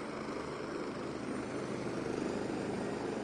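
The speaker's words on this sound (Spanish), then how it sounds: "Ya aterrizó el helicóptero." Helicopter sitting on a hospital helipad just after touching down, its engine and rotor producing a steady, fairly close whirring drone with a faint rhythmic beat.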